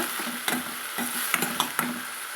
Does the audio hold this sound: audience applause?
no